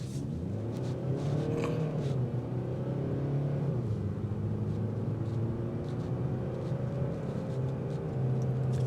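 2026 Kia K5 GT-Line pulls away with exhaust note rising through revs, a steady engine drone with shifting pitch heard from inside the moving car, no speech.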